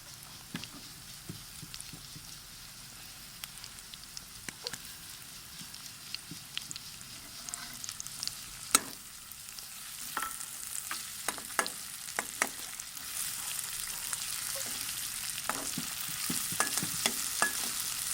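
Potatoes frying in a pan, a soft steady sizzle that grows fuller toward the end, with scattered spoon clicks and pops from stirring, fairly quiet and without talk.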